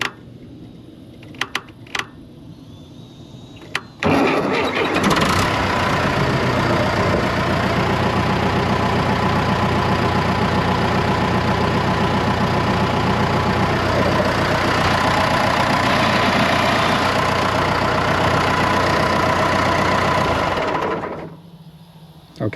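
An old tractor with a faulty key switch that started on its own, its engine running loudly and steadily at a rough idle for about sixteen seconds after a few clicks and a sudden catch, then cutting out abruptly.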